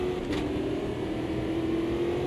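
Race car engine in the rain in the racing game Automobilista 2, a steady loud drone with a whining tone and a brief rev change near the start as the driver short-shifts gears.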